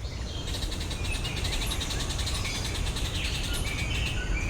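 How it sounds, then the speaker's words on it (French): Bird calls in a dense, humid tropical forest south of the equator: repeated chirps and trills over a constant thick wash of insect and forest ambience, moderately distant. "C'est un oiseau, le membre d'une espèce toute neuve"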